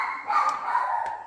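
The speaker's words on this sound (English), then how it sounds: "dog's barking again" A dog barks nearby indoors in a couple of quick, yappy bursts over a steady background.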